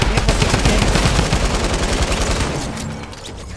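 Rapid, loud bursts of automatic gunfire in the Fortnite battle royale at a beach, dense overlapping shots close by that thin out slightly toward the end.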